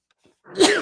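A single sharp sneeze bursts out after a brief faint intake of breath, close and loud.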